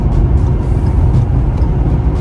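A Ford Fusion, rebuilt after a wreck, drives along a road, its engine and tyre rumble a steady low drone throughout with no pauses and no voices.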